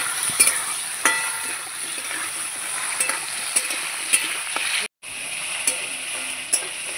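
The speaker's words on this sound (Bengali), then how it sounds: "একটু হলুদ দেবো, দিয়ে এবার নাড়াচাড়া করবো ভালো করে।" Food fries in a pan as turmeric is stirred in, an even hiss with scattered spatula clicks and scrapes, close and moderately loud, with a brief dropout midway and no voices.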